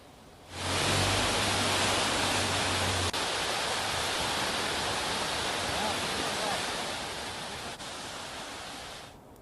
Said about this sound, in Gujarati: આ ડેમ ઓવરફ્લો થતા હાલ તો આ પાણી ખુશીના પાણી આ તમામ ગ્રામવાસીઓ માટે ખુશીના પાણી સાબિત થઈ રહ્યા છે।